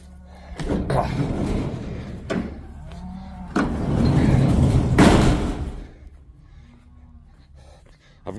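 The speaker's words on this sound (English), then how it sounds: "If I can open my door." A door opening gives a couple of clunks and a rattle close by, followed by rumbling movement and a louder bang. Low engine or wind noise runs underneath throughout.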